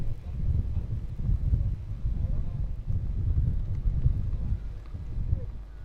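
Gusty wind buffeting the microphone at an outdoor cricket ground during a local match, a low continuous rumble that swells and dips, with faint voices in the background.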